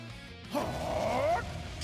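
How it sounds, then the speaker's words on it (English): A character powering up in Trails of Cold Steel IV gives a short rising whine, like a confused dog, lasting under a second over battle music. "His powering up sounds like a confused dog."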